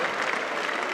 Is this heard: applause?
yes